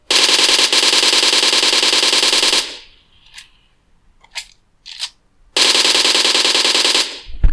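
PUBG gunfire from an ASUS ROG Phone 2 speaker: loud sustained bursts of rapid automatic fire, a long burst, then a few short isolated shots and clicks, then another long burst.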